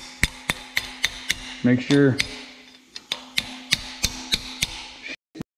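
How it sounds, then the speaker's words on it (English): Bolts on a 1979 Ford Cummins truck build are tapped with a hammer: a dozen or so sharp, evenly spaced metallic strikes, close and clear, broken once by a short bit of speech. "Now what I like to do is just tap them with a hammer."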